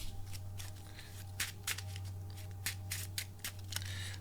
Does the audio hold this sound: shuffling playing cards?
yes